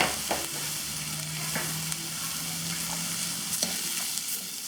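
Chopped vegetables dusted with chili powder fry in a pan for a rava kara paniyaram snack, a steady close sizzle with occasional scraping clicks of a spoon stirring through the mix, no voices.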